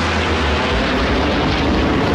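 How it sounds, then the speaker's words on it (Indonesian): Russian military defense aircraft flying over the Malaysia National Day 2022 parade, a loud, steady, broad engine roar filling the whole moment with no talk over it. "Yang akan melintasi pentas utama merupakan pesawat pertahanan canggih dari Rusia."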